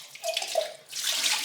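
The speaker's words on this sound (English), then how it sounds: "So I'll just change the water, nice and fresh, cool water." Cool water poured and rinsed in a glass jar, with two bursts of splashing and running water close by, separated by a short pause, no voices.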